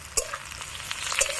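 Chopped tomato drops into a pan of deeply browned fried onions, bursting into a close sizzle with a few sharp crackling pops and stirring scrapes over a steady frying hiss.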